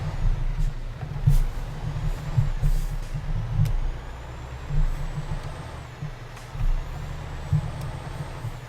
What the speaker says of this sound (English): This truck, it can't handle not being on the road.